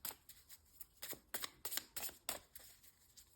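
Tarot cards are shuffled by hand close to the microphone, a series of quick, soft riffling bursts coming in an irregular rhythm at low volume.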